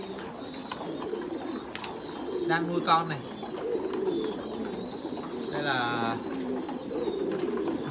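Breeding pairs of pigeons on a pigeon farm coo in soft, repeated rolling calls against a busy background of other birds, while someone talks over them.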